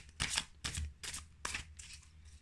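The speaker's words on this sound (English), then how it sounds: "Okay, so start shuffling the cards." Tarot cards are shuffled in several quick riffling bursts, soft and close, with short pauses between each pass and no talking.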